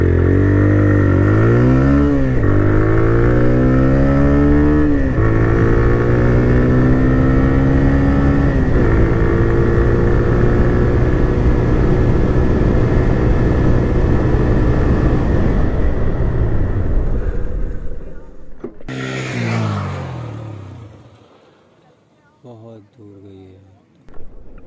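A TVS Raider 125 motorcycle ridden at about 80 km/h, its engine droning steadily with rising and falling harmonics and wind rush, loud and close for most of the run, then easing off near the end.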